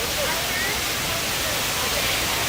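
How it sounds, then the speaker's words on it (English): Steady broadband rush of a waterfall at Animal Kingdom park, close and loud, continuous hiss with fine spray texture filling the whole moment, no pauses. "getting a little bit of sprayed with a little bit of water from that waterfall"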